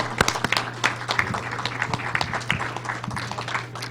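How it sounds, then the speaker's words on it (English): An audience applauding at a Black History Month essay awards event, a dense stretch of clapping from many hands with a steady low hum underneath. "Let's give them a round of applause."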